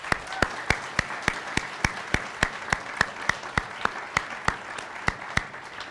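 An audience at a college arts and humanities speech showcase claps for the speakers in an even, steady beat of sharp, distinct claps that carry on for about six seconds at moderate loudness.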